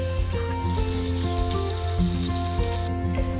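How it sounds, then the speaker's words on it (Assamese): Duck meat and chunks of ash gourd fry in a pan, giving a steady, close, dense sizzle with small crackles throughout and no talking. "এতিয়া এনেকেই ভাজি থাকিব লাগিব অকণমান সময়।"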